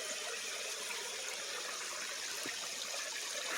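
At a waterfall, water gushes through a crack in the rock as a steady, broad hiss of rushing flow. It stays constant and fairly close, with no voices.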